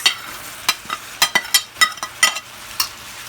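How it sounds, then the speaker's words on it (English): Vegetables being stir-fried with teriyaki chicken and shrimp: a soft sizzle beneath a run of quick, close scraping and clattering strokes as the pan is tossed and stirred, no voices. "And then I'm going to go in with my veggies."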